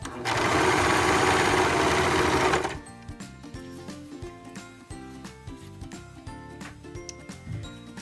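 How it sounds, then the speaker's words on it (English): A home sewing machine stitches elastic onto ruffled leggings in a loud, fast, continuous whir for about three seconds, then stops, leaving only quiet handling clicks and rustles of fabric. "And then as I sew, it will go right in."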